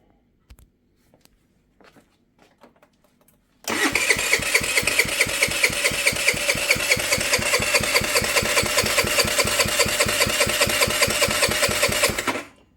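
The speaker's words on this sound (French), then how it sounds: "Mais déjà, il tourne. Le moteur tourne." Rebuilt Chinese four-stroke engine cranked and firing up after a few quiet taps, then running with an even rapid chugging beat for about nine seconds before shutting off abruptly.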